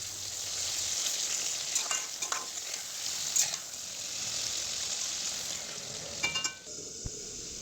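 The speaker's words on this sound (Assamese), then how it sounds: "এনেকৈ বিলাহীখিনি গলি গৈ থাকিব মই আৰু আধা ঘণ্টামান এনেকৈ ভাজি থাকিম" Tomatoes frying in a pan for sweet tomato jelly, softening and releasing their juice, make a close, steady sizzle with occasional scraping strokes from stirring and no talking.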